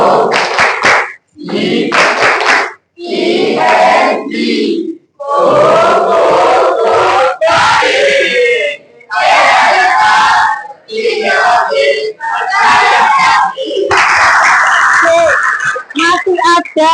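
An Indonesian classroom of students performs a rhythmic clap chant, bursts of unison voices and clapping in repeated phrases separated by short pauses, loud and close.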